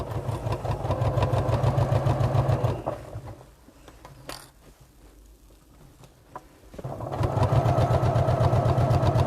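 A sewing machine stitches a tote bag one centimetre from the top edge, running slowly as the bag is turned: two stretches of steady, rapid motor whirr with a fine needle rhythm, split by a quiet pause.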